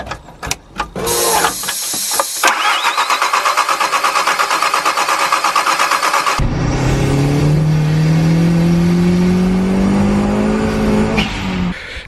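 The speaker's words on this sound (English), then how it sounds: "So I'm going to turn it over on idle now, get the oil flowing through the system, get the oil pressure up, and then start her up" A VW T4 van with a 1.8T engine, just back from a turbo change, cranks over on the starter in a long run of rapid, even whirring pulses, then the note rises and strains under load, loud and close.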